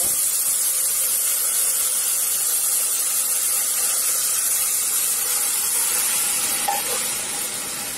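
Broth poured into a hot pan of browned onion and garlic for a fish-head pirão, a loud steady hissing sizzle that holds throughout and eases slightly at the end.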